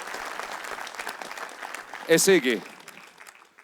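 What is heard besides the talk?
applause for a footballer's goal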